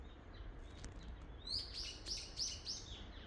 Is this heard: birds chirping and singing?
yes